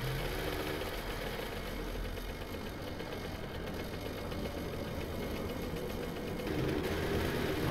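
A motorbike engine ridden through the wasteland in 7 Days to Die, a steady mid-pitched drone with a knocking, rattling texture that holds evenly throughout and swells slightly near the end.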